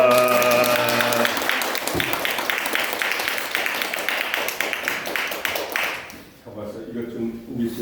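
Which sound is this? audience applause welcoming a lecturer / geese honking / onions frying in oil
audience applause welcoming a lecturer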